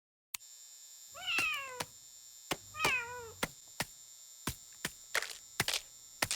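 A cartoon cat in the animated comedy Family Guy meows twice, two clear drawn-out cries close to the mic, followed by a series of sharp clicks and taps with no talking.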